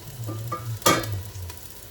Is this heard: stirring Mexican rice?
yes